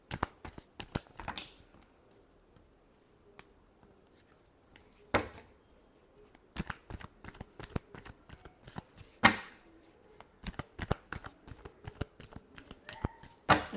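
Tarot cards are shuffled in quick, crisp riffling bursts scattered through a quiet room, with brief gaps between the flurries.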